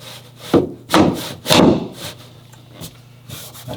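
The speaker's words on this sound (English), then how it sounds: "Okay, now hit the whole plank again with the plank hammer." A plank hammer strikes vinyl plank flooring during installation, several close, dull wooden knocks and scraping rubs in an uneven rhythm, with quieter taps trailing off and no talking.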